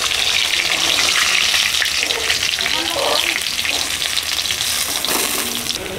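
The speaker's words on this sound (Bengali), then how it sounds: "বাকি মাছ ভাজা তুলে নিচ্ছি।" Fish frying in hot oil in a home kitchen gives a steady, close, loud sizzle throughout, with faint stirring noises and no speech.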